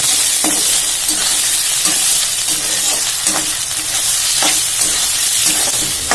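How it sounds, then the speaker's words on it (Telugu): Onions hiss loudly in a hot pan while being tossed, the close sizzle punctuated by repeated rhythmic scrapes and knocks of a stirring spoon. "ఉల్లిగడ్డలు వేసి బాగా కింద మీద కలపండి"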